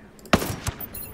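Gunfire from a weapon in Ghost Recon: Breakpoint, a field medic challenge playthrough: one sharp loud shot followed by a quieter second report about a third of a second later, close and alone.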